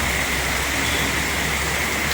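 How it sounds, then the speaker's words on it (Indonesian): Light rain falls steadily during a stop by an ALS 321 bus on a Sumatra road, a soft continuous hiss with no voices. "Tapi hujannya hujan nggak terlalu deras."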